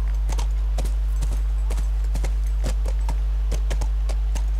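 Horse hooves walking in The Last of Us, a steady clip-clop of irregular hoof strikes over a constant low hum, with no talking.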